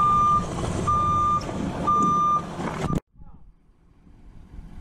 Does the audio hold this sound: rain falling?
no